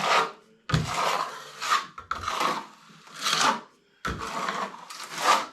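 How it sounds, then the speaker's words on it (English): A plastering trowel smooths plaster across a curved wall in long rasping strokes. Four distinct sweeps scrape close and loud, with brief silences between them and no talking. "let the trowel follow the ceiling or the existing wall and let the trowel do the work"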